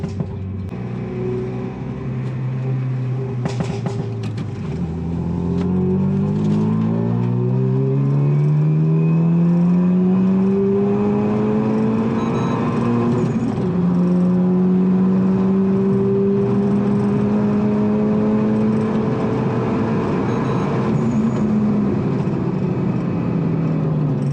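Renault Mégane IV RS Trophy-R with Stage 3 tuning accelerating hard on a short track, a loud, close engine roar rising through the gears with repeated upshift dips and a steady high drone to the end.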